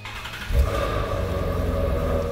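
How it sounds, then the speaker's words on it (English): A Shelby GT350 exhaust in stock mode, a deep throaty engine rumble that swells with a brief rev, then settles into a steady low burble at moderate distance. "that's just your stock exhaust mode, right? Nice and throaty the way it is."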